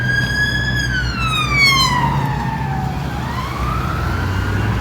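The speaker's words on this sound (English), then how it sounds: "There's a police car going past" A wailing police car siren sweeps down in pitch as it passes in Dudley Port, then begins rising again, heard over steady traffic rumble.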